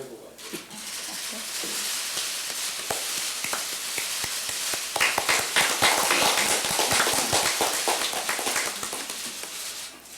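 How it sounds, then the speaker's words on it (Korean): Audience applause fills a hall at a Democratic Party talent recruitment ceremony in Korea, many hands clapping steadily and growing denser midway, with a voice speaking over it at the start. "박수 부탁드립니다"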